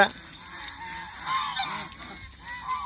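Several geese, four females and an older gander, honk repeatedly at close range, overlapping nasal calls rising and falling over a couple of seconds.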